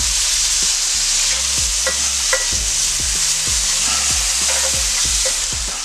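Onions sauté in a hot pan with a steady, loud sizzle, while a utensil scrapes and pushes them around in repeated strokes that sound close and clear throughout.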